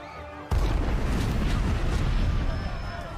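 A sudden, loud roaring blast of explosions and gunfire from a Secret Invasion episode bursts in after a brief quieter moment and keeps rumbling densely throughout.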